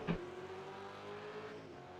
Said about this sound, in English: Oh, I heard that car back there